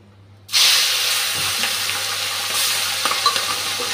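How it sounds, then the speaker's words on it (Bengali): Singh fish rubbed with salt and turmeric drops into hot oil with a sudden loud sizzle that keeps frying steadily, with faint stirring clinks and no talk. "নুন হলুদ মেখে এখন শিং মাছটা ভেজে নিচ্ছি।"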